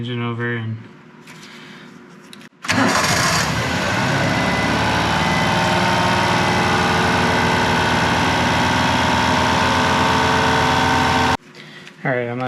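A Honda Acty kei truck engine is cranked over and runs at a steady, loud idle for about nine seconds in a garage during a coolant service, with quieter talk before and after.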